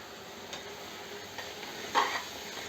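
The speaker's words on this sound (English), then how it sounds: "Increase the flame and allow the tomatoes to cook" Ground tomatoes cook in a pan over a raised flame for a dry fish curry, giving a low steady sizzle and a brief scrape of stirring near the end.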